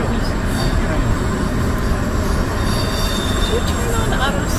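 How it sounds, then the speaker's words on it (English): Train wheels scrape and grind steadily against the rails, a continuous loud rumble with faint squeals, heard from aboard a moving train travelling past cliffs and bridges in western Maryland and Pennsylvania; a voice speaks briefly underneath. "All we hear is the scraping of wheels on the train."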